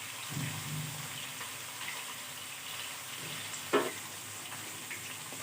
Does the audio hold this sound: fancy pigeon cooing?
no